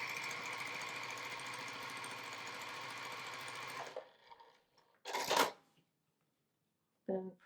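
A sewing machine runs steadily for about four seconds stitching the border edges of a quilted watermelon wall hanging, a continuous mechanical whir, then stops, followed by a few faint handling rustles and brief noises.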